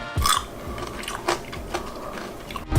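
Crunchy caramel-coated fruit skewer bitten at close range, a sharp crackle followed by a few soft chewing crunches, with no talk over it.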